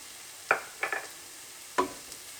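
Dry coriander and cumin powder cook in a pan for a minced beef and potato curry while a utensil stirs them, giving a few short, separate scraping strokes against a quiet background with no talking.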